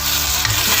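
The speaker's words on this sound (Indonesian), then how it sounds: "Lalu kita tumis lagi sampai bumbunya harum ya guys." Spice paste for tempeh and anchovy oblok-oblok sautéing in hot cooking oil, with a steady close sizzle and stirring scrapes running continuously through the short moment, no voices.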